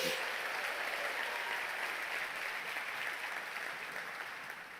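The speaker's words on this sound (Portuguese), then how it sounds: "Pode dar uma salva de palmas ao Senhor" A church congregation claps steadily in sustained applause, a dense wash of hand claps that stays loud throughout and eases slightly toward the end.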